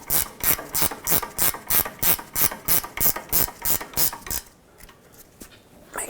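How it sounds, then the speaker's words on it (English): A ratcheting wrench tightens a sway bar link on an Acura TL, giving about a dozen close, rhythmic rasping clicks in steady strokes before stopping, followed by faint handling noise. "so I'm going to have to use a ratcheting wrench this time."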